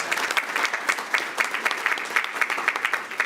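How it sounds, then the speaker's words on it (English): An audience at a school district board meeting gives a short round of applause, scattered hands clapping in uneven bursts at moderate loudness in an indoor room. "I also want to give her a round of applause"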